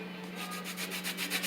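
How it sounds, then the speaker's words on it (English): A grater scrapes zest from a lemon for a Jamaican black fruit cake. A series of quick, rhythmic rasping strokes, close and fairly soft, grows slightly stronger toward the end. "So you grate like this all around"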